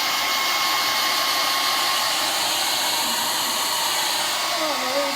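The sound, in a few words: hair dryer blow drying hair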